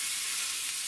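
Chopped fish cutlets in a potato and cheese coating sizzle in a pan of hot oil, a steady bright crackle that stays loud and even throughout the short moment, with no talking.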